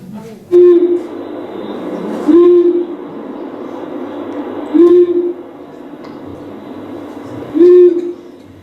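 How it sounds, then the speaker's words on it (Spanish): Four short, low hoots from a long-eared owl, evenly spaced about two seconds apart over a steady background hum, each one a single brief note. "el búho chico dice bú y se calla"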